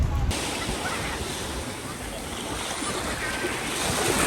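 Ocean waves wash steadily onto a beach in the game Minecraft, a continuous broad surf roar with a windy hiss and no clear breaks.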